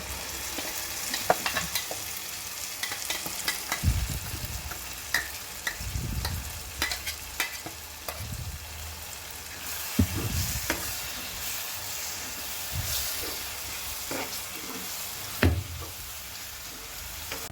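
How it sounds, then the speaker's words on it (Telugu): Ripe red chillies and tomatoes fry in a pan for a Rayalaseema-style tomato rasam, a steady sizzle broken by repeated scraping stirs that rise and fall every second or two, close and fairly loud, with no talking. "ఇప్పుడు దీంట్లోకి ఇది మనం పండు మిర్చి టమాటా యాడ్ చేస్తున్నాం కదా"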